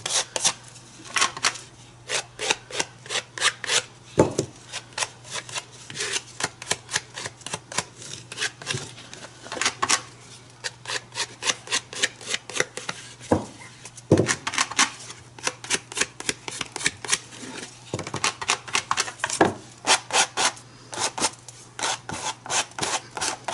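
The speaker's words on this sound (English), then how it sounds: "And here I am using the palette knife." A palette knife scrapes paint across canvas in quick, repeated short strokes, a close, scratchy rasping rhythm with brief gaps, under a faint steady hum.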